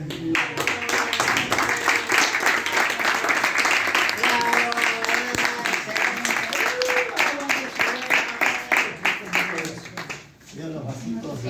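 Audience applause fills a room at a book launch, dense clapping mixed with voices and chatter throughout, thinning out near the end.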